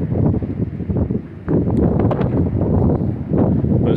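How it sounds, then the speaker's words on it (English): Strong wind buffets a microphone outdoors on a farm beside a Ford 8N tractor, a steady roaring rush with gusty swells and no speech. "It's pretty windy today."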